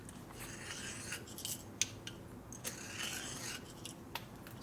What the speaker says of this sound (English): So now you're just giving a little chamfer to the edge, clean up Deburring.